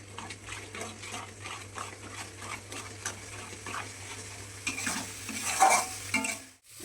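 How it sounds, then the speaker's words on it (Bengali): Spice masala with salt, turmeric and a little sugar is sautéed in a pan, soft sizzling under repeated scraping and stirring strokes, fairly quiet and close, rising slightly toward the end. "এবারে কষাবো"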